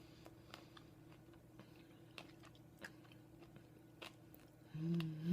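Quiet close-up chewing of a square of crunchy dark chocolate studded with espresso bean pieces, with soft scattered crunches and clicks and a louder rustle at the end.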